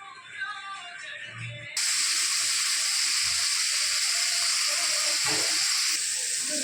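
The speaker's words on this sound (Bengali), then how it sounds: "বাটার দিয়ে দিয়েছি তেলের মধ্যে, দিয়ে এবার আমি পনিরের টুকরোগুলোকে ভেজে নেব" Paneer pieces frying in butter mixed with oil, giving a loud, steady sizzle and hiss that starts abruptly and runs without a break after a quieter opening.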